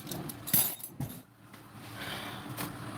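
A few light clinks and taps of dishes being put away in a home kitchen, close by and brief, scattered across a quiet background with no talk.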